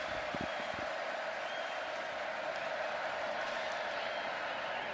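A stadium crowd cheers at a college football game between Auburn and Baylor, a steady, distant roar of many voices with a few brief claps near the start.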